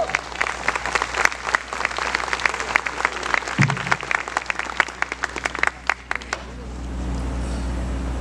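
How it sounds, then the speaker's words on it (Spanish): A church congregation applauds the King with dense, steady clapping for about six seconds before it stops abruptly, leaving a low hum. "dale un aplauso al Rey."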